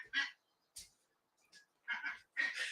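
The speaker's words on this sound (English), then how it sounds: "I know what duck love sounds like." Ducks give several short bursts of raspy quacking and honking calls, separated by brief silences, loud and close with no talking between calls.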